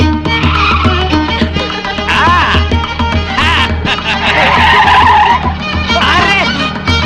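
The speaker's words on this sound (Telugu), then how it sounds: "మాధవి నువ్వు ఇంత స్పీడ్ గా డ్రైవ్ చేస్తుంటే నాకు చాలా హ్యాపీగా ఉంది" A lorry driven at high speed skids with tyre squeal, loud and close, under busy layered music or voices in a film comedy scene.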